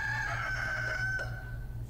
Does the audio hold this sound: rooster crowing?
yes